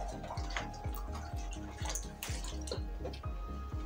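Water poured from a bottle onto a filter bag to saturate it, heard as close, steady splashing and dripping with repeated low gurgling pulses and no talk.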